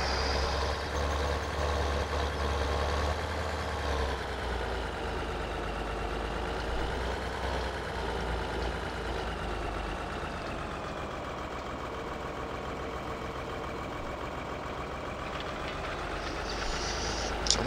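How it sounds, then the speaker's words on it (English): A tractor pulling a big cultivator across a field in Farming Simulator 2013, a steady droning engine hum with rumbling low end that holds constant and loud throughout, with no talk. "We're just going to plow her back in, I think, for now with the big cultivator here."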